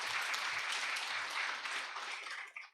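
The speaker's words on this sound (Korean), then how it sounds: "박기정 교수님께 뜨거운 박수 맞으셨으면 감사하겠습니다" A lecture audience gives a professor a dense round of applause, steady and fairly faint, fading out quickly at the end.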